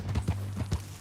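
Horse hooves clip-clopping in Red Dead Redemption 2, a steady ridden gait of repeated close, fairly loud thuds over a low background hum.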